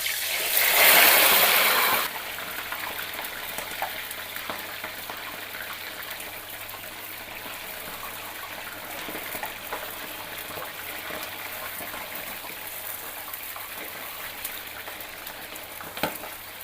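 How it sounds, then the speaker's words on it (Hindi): Chicken half-frying in hot ghee, a loud burst of sizzling as the pieces go in, then settling into a steady, softer crackle and hiss that continues close by without talk. "चिकन को हम करेंगे हाफ फ्राई।"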